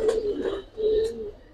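A young Giribaz high flyer pigeon gives two drawn-out throaty coos in quick succession, near and clear, with a brief pause between them.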